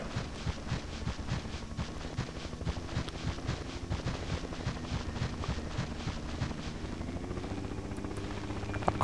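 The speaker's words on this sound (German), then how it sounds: "fliegt der Heli wieder." Helicopter in the military game Project Reality, a faint, distant rhythmic thudding rotor chop with a low engine drone underneath, steady throughout with no talking.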